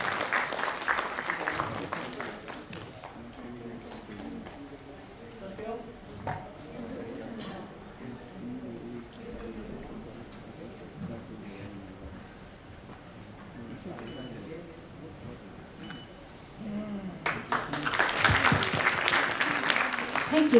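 Audience applause at an annual function swells in a short burst at the start and again near the end, with a stretch of murmuring voices and low hall noise in between.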